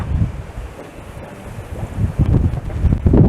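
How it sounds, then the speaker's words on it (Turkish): Strong wind buffets the microphone in low, roaring gusts that build louder toward the end on a cold day in Bodrum, Turkey, with no one speaking. "gün hayli soğuk ve rüzgarlı bir gün"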